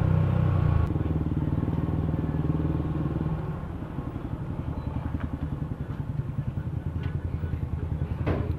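A motorcycle arriving to park at Pundakit, its engine loud at first and then settling into a rapid, pulsing idle close by, with a few light clanks and no talking.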